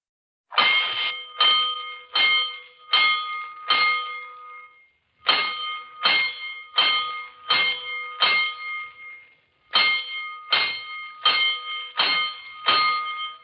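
Fire alarm bell for a 1949 firefighter radio drama, struck in three rounds of five loud metallic clangs each, ringing alone with brief pauses between rounds.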